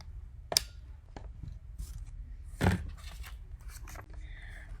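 Fabric is cut for a quilted table topper, giving a few faint, crisp cutting snips spaced apart, with quiet handling noises in between.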